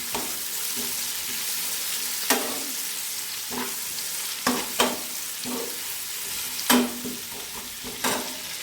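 Onions soften in a pan over medium heat, giving a soft steady sizzle broken by several sharp scraping clicks as they are stirred.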